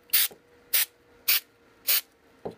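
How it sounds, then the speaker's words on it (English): Four short hissing bursts of thick spray adhesive from a spray can, evenly spaced, close and fairly loud, with near silence between them. "That's the spray, so it's a really thick spray."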